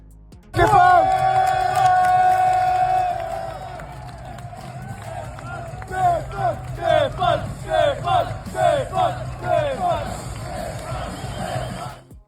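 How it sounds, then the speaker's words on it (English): A large crowd at a bodybuilding show roars and cheers, starting with a loud sustained shout, then breaking into rhythmic chanting bursts that pulse steadily for several seconds, dense and echoing in a big hall. "with a huge crowd reaction. Just listen to the crowd."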